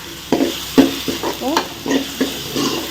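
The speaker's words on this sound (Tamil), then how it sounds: "இதுக்கப்புறமா கட் பண்ணி வச்சுருக்கிற தக்காளி பழத்தை போட்டேன்" Two chopped tomatoes frying in a pan for a crab gravy, with close, steady sizzling and repeated scraping stir strokes at an irregular rhythm.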